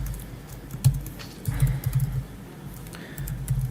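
Computer keyboard typing in a workshop setting: clusters of quick keystroke clicks come in uneven bursts with short pauses, close up over a low background hum, and no one speaks.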